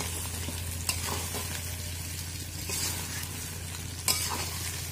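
Potatoes frying with chicken curry in a wok, producing a continuous close sizzle with a low hum beneath and a couple of sharp stirring knocks.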